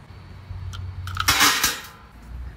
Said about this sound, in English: Measure out the logwood chips and add to the dye pan.